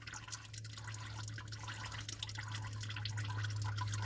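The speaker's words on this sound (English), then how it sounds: "It's draining in the drain pan, see?" Engine oil from a 2023 Chevrolet Equinox drains steadily into a drain pan, a continuous close trickle with faint dripping and no talking.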